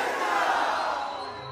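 A large outdoor crowd at a Bhojpuri night concert during Gorakhpur Mahotsav 2024 roars a loud, sustained chant of Jai Shri Ram that fades slightly as it ends.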